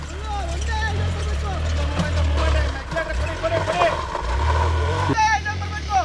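A KTM 390 Enduro R motorcycle engine run at full throttle on an off-road trail, a steady low roar rising and falling under loud, excited talk.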